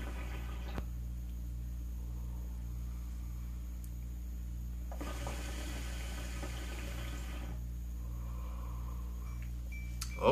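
Water bubbling in a hookah during a long draw, a gurgling burst lasting a few seconds in the middle over a steady low hum, close and fairly quiet.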